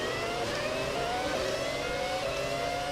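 A Ferrari F2002 Formula 1 car revs in the racing game F1 2017, a continuous high engine whine with climbing pitch, steady and fairly close.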